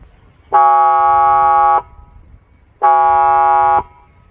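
Two loud, sustained electronic horn blasts from a car-mounted PA loudspeaker on a Suzuki Swift, each a bit over a second long with a brief gap between, harsh and buzzy.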